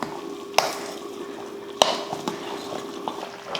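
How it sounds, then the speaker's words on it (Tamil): A ladle stirs cooked sambar rice in a pot, giving soft mushy scraping with a few sharp clinks against the metal rim, close up with no talking. "இந்த மாதிரி கரண்டியை விட்டு இந்த மாதிரி கலந்துட்டோம்னா இன்னும் நல்லா குலைவாயிரும்"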